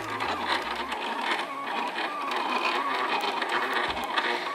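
A Silhouette vinyl cutting machine cuts heat transfer vinyl, whirring and buzzing steadily, its motor and blade carriage moving back and forth with a printer-like mechanical drone.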